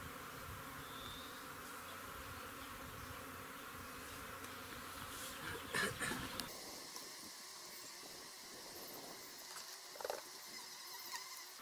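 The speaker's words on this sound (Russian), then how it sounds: "пускай пчелки зайдут в улей по своему запаху, к своей семье" Honeybees buzz around a hive as a swarm's division is moved in, a steady insect drone with faint scattered patter, a few brief louder knocks near the middle, no voices.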